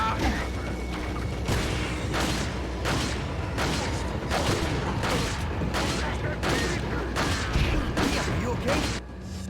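Repeated gunshots from the Resident Evil 4 game fire in irregular bursts, with a mechanical clatter and booms, over a steady loud game backdrop, and a voice speaks briefly.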